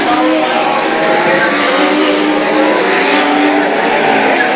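US Legend race cars race on the Bethel track, their engines a loud, continuous roar as the pack passes close.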